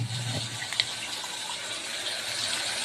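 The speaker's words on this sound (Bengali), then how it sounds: "মিক্সিটা ধুয়ে একটু জল দিয়ে দেবো সামান্য" Water running to rinse a mixer grinder jar, a steady close gush with a faint clink of the jar partway through.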